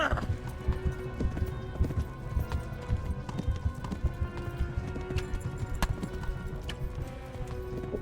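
A horse gallops with rapid, rhythmic hoofbeats in the medieval video game Kingdom Come: Deliverance, steady and moderately loud throughout, with a brief whinny mixed in.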